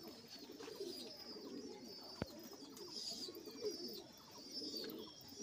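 Pigeons coo softly in a steady, overlapping murmur of low rolling calls, with faint chirps and a brief sharp click in the mix, and no clear talk.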